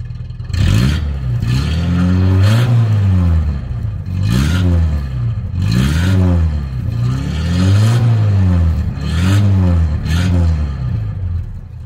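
A Datsun 720 4WD ute with a 5-speed gearbox and a newly fitted exhaust revs loudly and close by, with about six repeated throttle blips rising and falling over a steady idle rumble and no talking.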